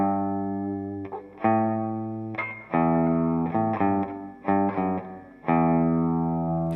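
Guitar plays the chords of a song at a slow beginner pace with little distortion, sustained ringing chords struck in a steady pattern with brief pauses between changes, clear and close with no voice.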